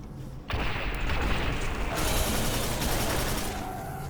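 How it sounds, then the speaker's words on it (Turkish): A machine gun fires continuously in the shooter video game Quake 4, a dense loud burst of rapid shots that starts abruptly and holds for several seconds over booming game effects. "Ha bunun sonsuz mermisi varmış. Bildiğin sonsuz mermi. Machine gun."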